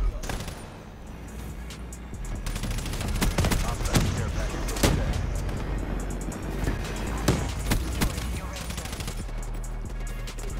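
Dense automatic gunfire in the shooter Call of Duty: Black Ops 3. Loud bursts and sharp single cracks keep going, with a player talking over the shooting throughout.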